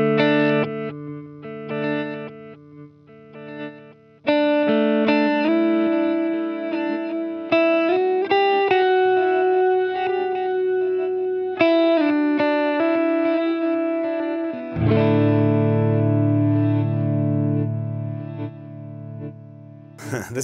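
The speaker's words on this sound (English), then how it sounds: "Okay, reverse delay can be a lot of fun." Electric guitar notes through a TC Electronic Triple Delay pedal set to reverse delay, each phrase followed by swelling backward repeats that build into a thick sustained wash before a final strummed chord rings out.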